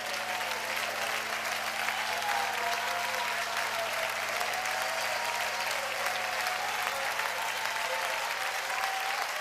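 Congregation at a church service applauding loudly and continuously, a dense unbroken roar of clapping with a faint tonal hum underneath.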